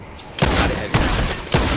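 Gunfire in the game Fortnite Save the World, with three loud, sharp blasts spaced about half a second apart, each followed by a brief ringing tail, with no talk over them.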